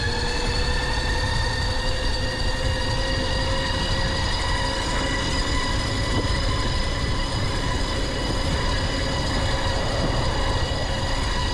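CYC X1 Pro Gen 2 e-bike motor whining at full throttle, a steady high-pitched electric drone with a rushing roar beneath it, loud and continuous throughout.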